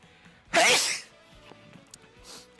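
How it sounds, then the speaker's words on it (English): A single loud, explosive sneeze close to the microphone, followed by quiet room sounds and a few soft clicks. "my fucking sneeze took over"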